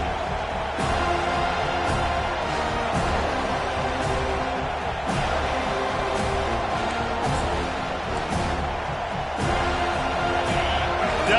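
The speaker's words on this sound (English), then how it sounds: "Decibels rising as the crowd gets behind this defense on 3rd down." Stadium crowd in the College Football 25 video game, at a Wisconsin at Florida State matchup on a third down: a steady, dense roar of cheering fans that keeps up throughout at near-constant loudness, with a few sharp slaps and whoops inside it.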